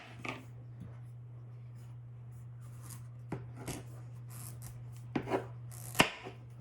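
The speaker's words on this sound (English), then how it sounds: "I'm using a butternut squash, cutting the end." A knife cutting the end off a butternut squash, a handful of sparse, sharp chops and scrapes on a board over a steady low hum, close and fairly quiet.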